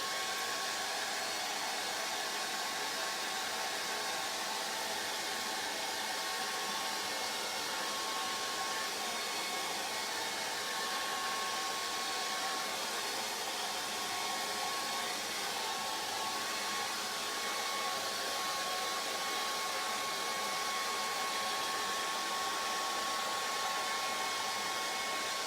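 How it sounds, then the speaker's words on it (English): A hair dryer blows steadily and continuously over a watercolour painting, a constant whooshing hum with a faint whine, running alone without pause. "Hair dryer"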